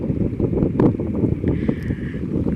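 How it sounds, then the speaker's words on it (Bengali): Passenger launch MV Imam Hasan-5, loaded with passengers on the river toward Chandpur, its engine droning low and steady under heavy wind buffeting the microphone. "যাত্রী বোঝাই হয়ে চাঁদপুরের দিকে ধেয়ে ছুটছে এমবি ইমাম হাসান পাঁচ"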